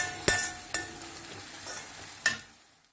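Onions sautéing in a pan for a pasta dish: a soft, quiet sizzle with three sharp scrapes or taps of a spatula spaced across a few seconds, fading toward the end.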